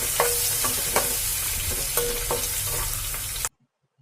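Crushed garlic frying in a pan for Telugu-style tomato dal, a steady sizzle with several sharp stirring scrapes at a loose rhythm, close and clear, ending abruptly in silence.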